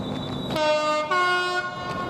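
A train pulling out of Didcot Parkway railway station sounds a steady, loud two-part horn over the low rumble of rail traffic, with no one talking.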